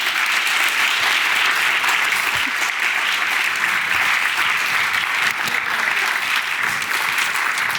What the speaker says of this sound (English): Could I have one additional round of applause for Markus Engels, our Secretary General?